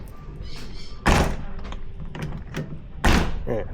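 An old rocket-nose passenger van has its door worked, producing two loud, heavy thunks about two seconds apart, close to the microphone, amid background voices and handling noise.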